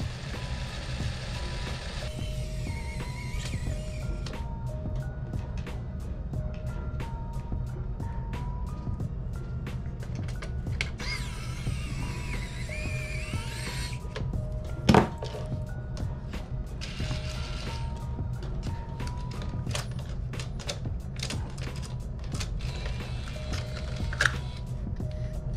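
PS5 disc drive ejecting and taking in a disc after a realignment repair, heard as faint mechanical whirring and clicking over a low steady hum, with a couple of brief sharper clunks.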